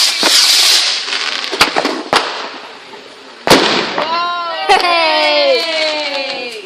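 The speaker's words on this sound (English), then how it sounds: "Rocket! Ready?" A firework rocket on Bonfire Night hisses up, then cracks and bangs in several sharp bursts at close range, with people talking and voices rising in the background.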